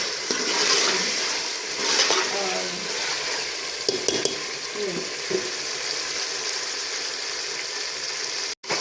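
A steady frying sizzle as black chickpeas roast in oil in a pan, with occasional scraping and stirring close by, and a soft voice heard briefly.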